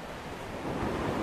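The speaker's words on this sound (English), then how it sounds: "The sea's quite nice." Sea surf in the game Dear Esther washes in as a broad, steady roar of waves, swelling slightly louder toward the end with no voices.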